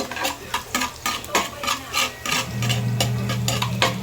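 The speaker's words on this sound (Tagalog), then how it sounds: "Ilagay na natin ang bawang. Halo-halo lang." Garlic frying in hot oil in a pan for Filipino-style corned beef, stirred with a utensil in repeated scraping strokes, then settling into a steady loud sizzle; close and clear with no talking.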